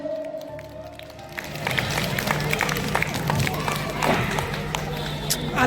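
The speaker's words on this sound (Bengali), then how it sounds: "একটু জোরে হাততালি হোক।" An audience claps at a quiz prize-giving in Majdia, the dense clapping building after a quieter start and continuing steadily while a voice talks over it.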